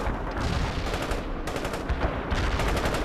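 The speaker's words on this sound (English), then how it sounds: "Attacking the enemy with rockets" Anti-tank squad rockets fire in a World in Conflict battle, a dense run of sharp blasts and crackling bursts following one another over about three seconds, loud and close with no talk.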